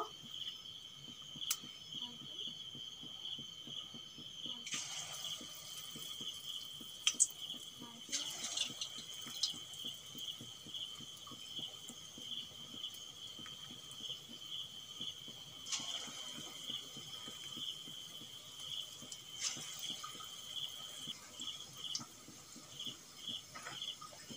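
Chicken pakora coated in rice flour and cornflour fries in hot oil, giving a steady, fairly quiet sizzle with fine crackling and popping that carries on throughout.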